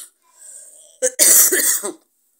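A single close, harsh cough burst, preceded by a brief breathy sound, then silence.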